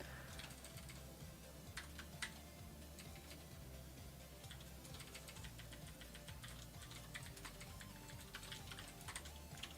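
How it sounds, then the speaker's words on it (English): Rapid, steady typing on a small 34-key computer keyboard, the clicky keystrokes running continuously and close up with no talking. "34 key keyboard."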